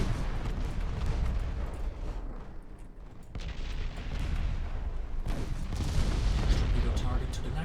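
Warship guns booming in a naval battle in Ultimate Admiral Dreadnoughts, dense rumbling salvos and heavy gunfire rolling almost continuously, with a voice giving orders over the din.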